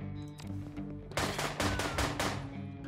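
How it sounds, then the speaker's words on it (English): A quick burst of rapid SMG fire in the video game John Wick Hex, several sharp shots in close succession ringing loud and near over a low ambient hum. "I wanna grab the SMG right now. And shoot you."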